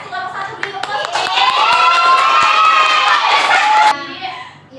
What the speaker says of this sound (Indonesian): terima kasih kelompok 1 beri tepuk